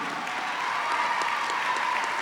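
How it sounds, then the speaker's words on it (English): Applause from the audience at the 2012 National Council of La Raza annual conference during a speech by Vice President Biden: a short, dense, even burst of clapping from a big crowd, filling the hall without any speech over it. "But give yourself an applause, because your time is about to come."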